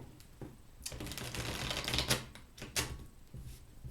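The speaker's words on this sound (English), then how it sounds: "I feel like I need to shuffle one more time here." Rapid papery riffling and flicking of tarot cards, a crisp shuffle with a few sharper snaps toward the end, close and unaccompanied by talk.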